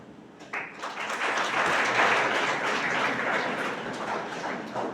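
An audience at a talk breaks into sustained applause, a dense wash of many hands clapping that starts abruptly, swells, and keeps going to the end.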